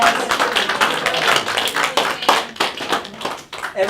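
A small audience claps at a live public speaking training session, with uneven, fairly close handclaps that swell and dip over a few seconds.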